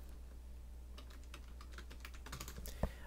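Typing on a computer keyboard: quiet scattered key clicks that begin after a moment, get busier toward the end and finish with one louder tap, set over a low hum.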